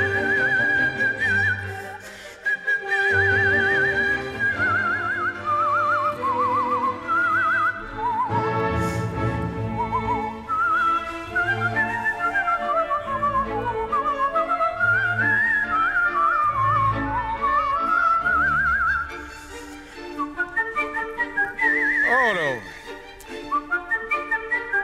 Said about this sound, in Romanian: Adevărat că unul care să fluiere pe scenă n-am avut niciodată.